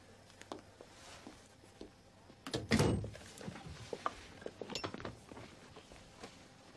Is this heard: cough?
no